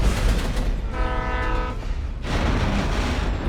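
In Alan Wake, a passing train sounds its horn, one sustained blare of about a second over a continuous heavy rumble of rolling wagons, with no voices.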